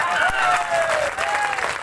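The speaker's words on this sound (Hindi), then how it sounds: "एक मरतबा जरा सा आप मुझे हौसला दें, तालियां बजाएं।" Audience applause at an All India literary mushaira poetry gathering, a dense burst of clapping from a crowd with some faint voices mixed in, loud and steady for a couple of seconds.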